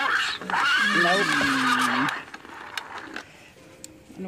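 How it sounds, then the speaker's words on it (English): A vintage See N Say farm toy plays a recorded horse whinny, loud and close, lasting over a second, followed by faint clicks and ratcheting of its mechanism as someone speaks nearby. "This is a horse."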